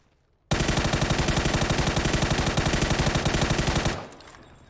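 Automatic gunfire in the video game PUBG, a single loud, sustained burst of rapid, evenly spaced shots lasting about three and a half seconds before it cuts to quiet.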